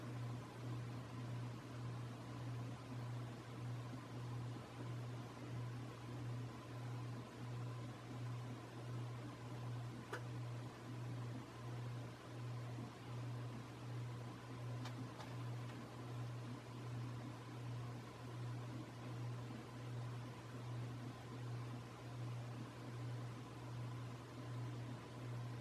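A Universal Spinner 52-inch ceiling fan runs on its slow setting with a steady, continuous low hum and faint electrical buzz, constant throughout with no talking.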